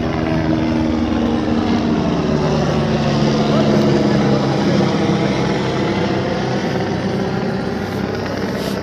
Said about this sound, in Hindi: यहाँ पे तो हर 2 मिनट में हेलीकॉप्टर, देखो ये आया है